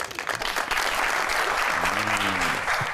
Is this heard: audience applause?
yes